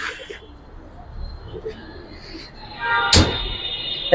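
Giribaz pigeons coo softly and close by in a loft, with short murmuring calls, brief chirps and a sudden clattering burst near the end.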